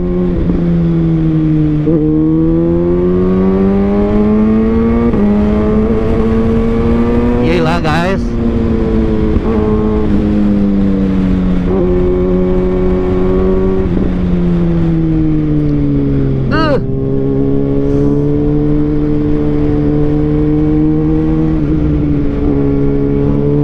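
A 2021 Kawasaki Ninja ZX-6R motorcycle engine revs loudly and continuously, its pitch rising and falling through upshifts, with a sharp burst near the middle and another later.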